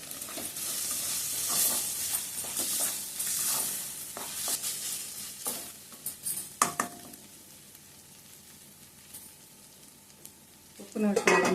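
Mango chicken fries in a pan with a steady sizzle while a utensil stirs and scrapes, the sizzling dying down midway before a brief clatter of cookware at the end.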